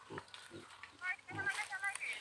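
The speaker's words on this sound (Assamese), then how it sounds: "এয়া হৈছে গাহৰি, এয়া দেখিছে গাহৰি পুহিছে" Farm pigs give short, low grunts in a few separate bursts, fairly close, alongside a brighter, chattering layer of higher-pitched sound.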